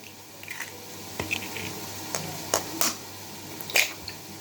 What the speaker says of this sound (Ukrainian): Беремо 3 яєчка та вбиваємо в миску.